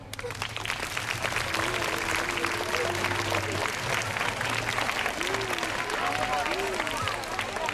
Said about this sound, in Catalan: Anem a rebre-los amb un fort aplaudiment.